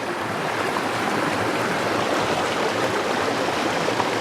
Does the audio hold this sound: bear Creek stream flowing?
yes